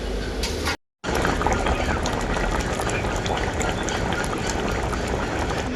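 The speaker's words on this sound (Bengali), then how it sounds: "এরপর আমি ঝোলটাকে খুব ভালো করে ফুটিয়ে নেব আর ঢাকা দেব না" Jackfruit curry gravy boils uncovered in a pan, giving a steady, dense bubbling and gurgling close by. After a short break in the first second, the boil runs on continuously with no pauses.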